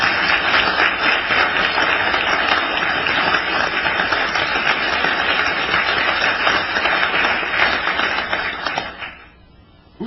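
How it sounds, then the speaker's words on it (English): Sustained round of applause from a room of attendees at a university Board of Regents meeting, dense and steady for about nine seconds before tapering off abruptly near the end. "I think we owe the Chancellor and everybody at Superior who worked on this a round of applause"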